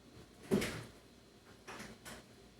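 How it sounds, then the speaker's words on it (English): A room door pushed shut indoors, giving a single fairly loud thud with a short rattle, followed by a couple of fainter knocks as it settles. "hold on, y'all, I gotta close my"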